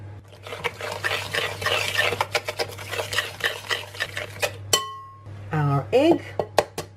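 A spoon stirs cookie batter in a bowl after vanilla goes in, making a series of quick scraping clinks against the side, followed by a glassy ring and a brief squeak near the end.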